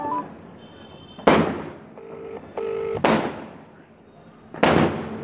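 Short bursts of two-tone telephone keypad beeps as a number is dialed, squeezed between three loud, sharp firecracker bangs during Kali Puja that crackle and fade.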